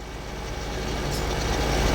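A tractor engine in the Farming Simulator 2013 game drones steadily with a low, continuous rumble, growing slightly louder over two seconds, with no talk.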